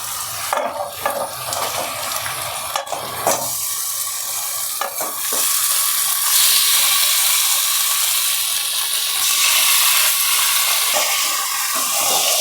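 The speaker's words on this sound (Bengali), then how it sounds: "আমার পেঁয়াজটা ভাজা হয়ে গেছে, এবারে আমি চিকেনটা দিয়ে দেবো।" Chicken added to fried chopped onions sizzles loudly in a pan, an intensifying steady hiss with rattling scrapes and knocks of stirring near the start.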